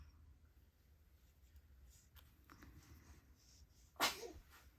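A single sharp sneeze bursts out near the end, close and loud, after several seconds of quiet room noise.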